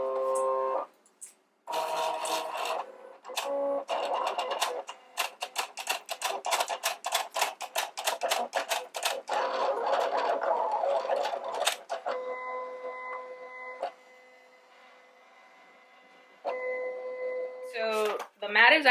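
Arteza vinyl being cut by a vinyl cutting machine: fast clattering motor ticks in long bursts, then steadier whirring pauses and tones, close and clear without talk.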